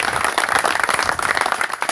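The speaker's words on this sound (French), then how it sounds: "applaudissons pour notre Seigneur" A crowd at a pastors' conference claps enthusiastically, dense continuous applause at close range with no speech over it.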